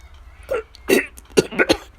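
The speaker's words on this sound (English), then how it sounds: "He grabbed his throat and began to spit and cough in one huge effort to evict the fly from his mouth" Someone coughing and spitting to get rid of a swallowed fly: a few sharp, close, throaty bursts spread over two seconds, with brief gaps between them.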